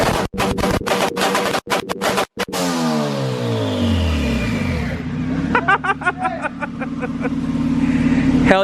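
An all-wheel-drive Honda CRX with a stock LS VTEC engine on 15 pounds of boost runs on a dyno: loud engine revving with rising and falling pitch sweeps and sharp gear changes, with people talking and cheering nearby.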